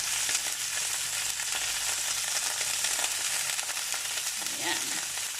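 Cauliflower and broccoli fry in a pan for pancit canton, giving a steady, bright sizzle throughout, with a brief faint voice near the end.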